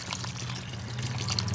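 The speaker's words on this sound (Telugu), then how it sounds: "దీంట్లో వాటర్ యాడ్ చేసేసుకుందామండి." Water pours steadily into a pan of pumpkin pieces with spices, a continuous close splashing rush with no speech.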